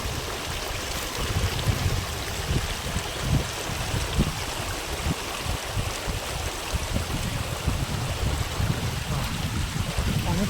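A cold mountain stream flows on the snowy route from Manali to Rohtang Pass. The broad, steady rushing and burbling of the water is loud and close and continues throughout.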